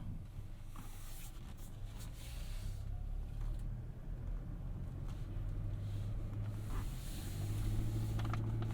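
A 2023 Chevrolet Colorado WT pickup drives along a road, heard from inside the cab as a steady low engine and road rumble with faint tire hiss, no talk.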